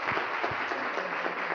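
An audience at a scientific conference award ceremony breaks into applause, a brief, fairly quiet, steady patter of many hands clapping without talk.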